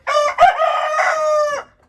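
A rooster in a flock of chickens including Araucanas crows once, loud and close, a long drawn-out call with clear harmonic tones that cuts off sharply.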